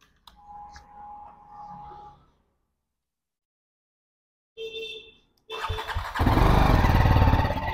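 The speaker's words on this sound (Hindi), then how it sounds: "तो गाइस बाइक को कर दिया है कोल स्टार्ट" A motorcycle is cold-started after a stretch of quiet and settles into a loud, close, steady idle.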